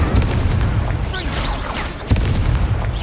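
Incendio fire spell blasts go off in the Hogwarts Legacy video game, loud booming bursts, one sharp hit near the middle, over dense game combat noise.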